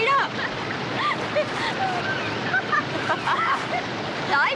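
Surf breaks along a remote wild coast where a waterfall spills into the sea, making a continuous rushing wash. Chirping calls and a voice carry over it.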